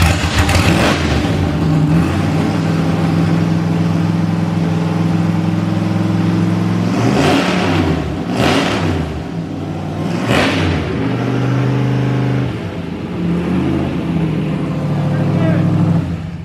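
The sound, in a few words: loud car engine revving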